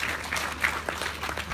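An audience at a university student orientation gives a round of applause, steady close clapping from many hands with no voices over it.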